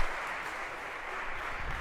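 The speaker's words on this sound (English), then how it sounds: "And a round of applause, if we could, for our volunteers" A lecture audience applauding volunteers at an algorithms lecture, a dense, even wash of clapping from many hands throughout, moderately distant and fairly quiet, with no voices over it.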